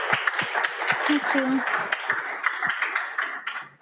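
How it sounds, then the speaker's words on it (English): An audience in a conference room at a London MLOps meetup claps in a dense, steady burst of applause. A voice speaks briefly over the clapping. "everyone in the room clapped"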